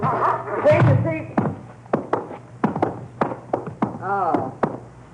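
Knocking on a door in an old western radio drama: a run of sharp, irregular raps mixed in with people talking.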